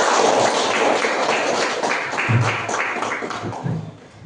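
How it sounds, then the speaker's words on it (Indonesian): A class gives a round of applause, dense hand clapping that fills the room steadily and then tapers off slightly toward the end. "silakan beri aplaus kepada kita semua"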